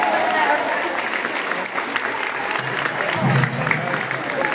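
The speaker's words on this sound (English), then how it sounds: "let's do one more round of applause for all our graduates" A graduation ceremony audience claps for the graduates in a steady, dense round of applause, with voices and cheers mixed in throughout.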